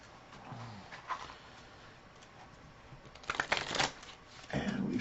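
Marvel Champions cards being shuffled by hand, soft quiet riffling with bursts of rapid fluttering clicks, with brief faint speech nearby.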